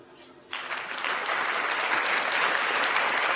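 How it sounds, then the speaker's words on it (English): Audience applause for a performer called Unclean Hands breaks out after a short quiet lead-in, then swells into a steady, dense wash of clapping that holds loud to the end. "Round of applause, ladies and gentlemen, for Unclean Hands."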